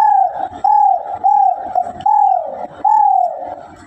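A person mimics a dove's call with about five hoarse, rising-and-falling coos in a steady rhythm, close and loud with brief breaths between them.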